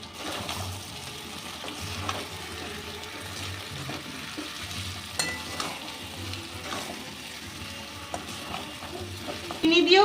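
Malai chicken with fresh cream and a pinch of sugar fries in a pan while being stirred; a continuous sizzle runs under repeated scraping strokes of the spoon at a steady rhythm.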